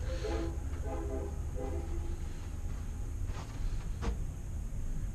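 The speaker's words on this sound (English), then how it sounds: "If you hear that train in the background" A train rumbles past at a distance near an Arizona ghost town, with a low, steady roar and faint rail clatter, with a horn-like tone at the start.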